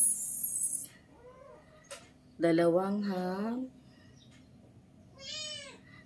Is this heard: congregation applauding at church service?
no